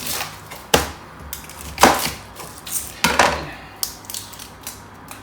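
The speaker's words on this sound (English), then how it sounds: "the first thing we're going to do here is chop this onion" A knife chops an onion on a cutting board in a home kitchen, with about six sharp, evenly spaced chops, close and distinct, and no talking.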